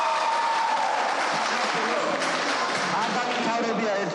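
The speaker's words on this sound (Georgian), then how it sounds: "პირველი ოვაცია გადაწყვეტილებას ეძღვნება." Applause breaks out in a courtroom as a jury verdict is read, a dense, steady wash of clapping from a crowd that runs without pause, with voices mixed into the noise.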